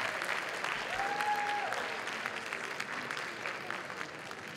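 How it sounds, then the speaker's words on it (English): A closing-ceremony audience applauds in a steady, dense round of clapping that holds at even strength throughout, with a brief whistle near the start. "Give a huge round of applause,"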